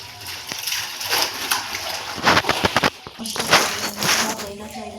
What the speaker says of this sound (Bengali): ধুয়ে নিচ্ছি সব